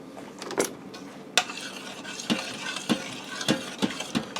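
Cream cheese is stirred into pasta inside an Instant Pot, with a spoon scraping and clanking against the metal pot in irregular knocks over a soft background hiss.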